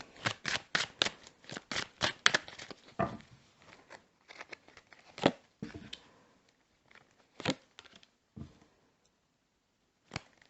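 Cards are shuffled close by in rapid riffling bursts, then a few slower, scattered flicks and taps with pauses between.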